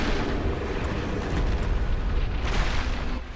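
A loud, rumbling explosion in the video game Dark Souls roars continuously, with heavy low-end booms and crackling bursts over several seconds.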